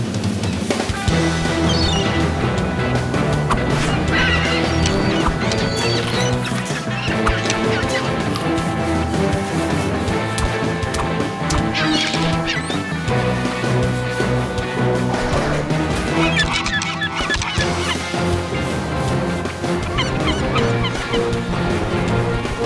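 Cartoon seagulls honk and squawk in a crowded, noisy flock over about twenty seconds, with busy music and crashing effects throughout and no clear speech.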